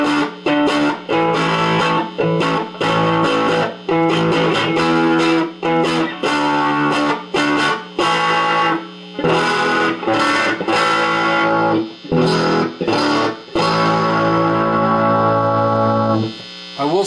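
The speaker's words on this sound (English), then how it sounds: "So right now I'm going to turn it up and we'll listen to it and see what it sounds like" A modded Monoprice Stage Right 611705 tube guitar amp cranked loud, playing distorted chords in choppy bursts with brief gaps, a steady mains hum audible between the strums.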